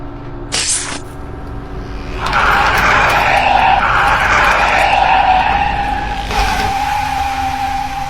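A bus skids with failing brakes: a sharp hiss at first, then a long, loud, sustained tyre screech and rumble that holds close for several seconds.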